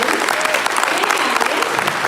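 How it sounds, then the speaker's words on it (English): A crowd applauds steadily, dense clapping from many hands filling the room at a fairly loud, even level with no pauses. "Let's give a clap for the flute section."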